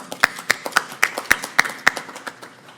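A few people clap in a steady rhythm at a city council meeting, sharp distinct claps about twice per second, fading toward the end.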